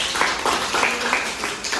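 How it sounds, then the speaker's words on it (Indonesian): Audience applause at an Indonesian 2024 entrepreneurship competition session, a steady, moderately loud patter of many hands clapping throughout, with no clear voices over it. "Mari kita berikan tepuk tangan kembali."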